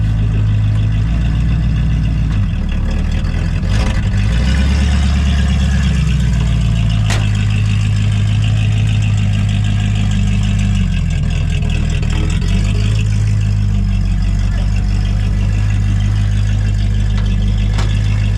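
A big block Chevy V8 in a 1972 K5 Blazer idles slightly rich with a big block fuel pump fitted, making a loud, continuous low rumble with small wavering shifts in its rhythm and no voices.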